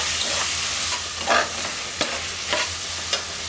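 Tomatoes and spices fry in a pan for prawn biryani. A loud, continuous close sizzle runs throughout, broken by several scraping stirs, and no one speaks.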